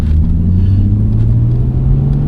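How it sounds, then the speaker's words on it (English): A BMW 330ci Clubsport engine revs loud and close in second gear, a continuous deep rumbling drone that climbs gradually in pitch, with no voices. "So the engine's fully warmed up now, so I can rev it out a little bit."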